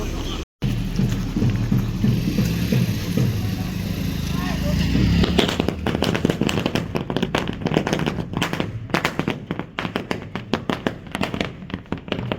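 Firecrackers burst at a wedding procession, first a dense roaring crackle, then a long run of sharp, loud pops in quick irregular succession, with crowd noise and voices underneath.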